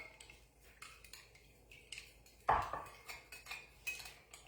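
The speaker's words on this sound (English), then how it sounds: "And I'm going to stir that Italian seasoning up." Utensil stirring Italian seasoning in a bowl, a quiet, close sequence of clinks and scrapes with one louder knock against the bowl midway, no talk.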